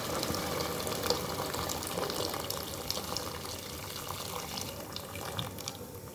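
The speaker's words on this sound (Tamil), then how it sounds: "ஹாட் வாட்டர் ஆட் பண்ணிக்கிறேன் 6 டம்ளர்." Hot water pours into a pot of sautéed vegetables for homemade veg biryani, a continuous splashing rush with a light sizzle beneath, steady and close with no talking.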